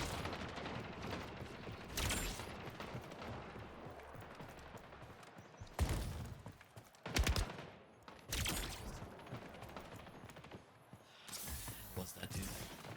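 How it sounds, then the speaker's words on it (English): A submachine gun fires in the arena shooter Splitgate Arena Reloaded, several loud bursts of rapid gunfire breaking through busy game noise, each burst lasting about a second and fading quickly. "Just gotta get a kill with this, submachine gun here."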